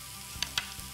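Onion and garlic softening in a pan give off a quiet, steady low sizzle, and two brief scraping stir sounds rise above it near the middle.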